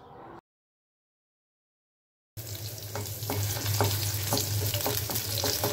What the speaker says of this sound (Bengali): এখানে কাঁচা মরিচ আর শুকনো মরিচ ভেজে নিচ্ছি হালকা একটু তেল দিয়ে